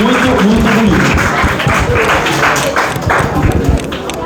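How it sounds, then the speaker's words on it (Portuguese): A group claps and cheers for the makers of a Corpus Christi street carpet during a catechism class. The applause is dense and steady, mixed with voices talking over it. "Vocês merecem muitas palmas, porque aquele tapete ficou muito, muito bonito."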